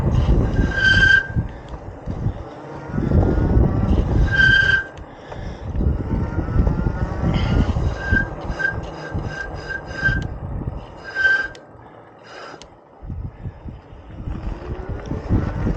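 Harsh scraping and grinding noise from car brakes with repeated high squeals, rising and falling over a rumbling vehicle background.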